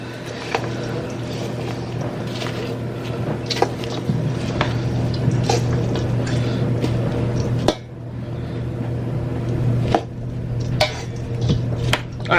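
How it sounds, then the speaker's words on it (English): A spoon mixes food in a bowl or pot, with repeated clinks and scrapes against the dish over a low background hum, close by and without talking. "Get a spoon. Just kind of mix that together some."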